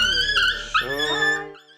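A young dog whimpering and whining at the vet before an anaesthetic, a close, high, drawn-out cry that wavers and fades out.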